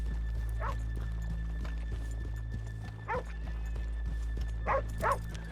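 Horses in the Red Dead Redemption 2 video game, with soft steady hoof clops under a droning game ambience and several short neighs and whinnies scattered through, moderately near.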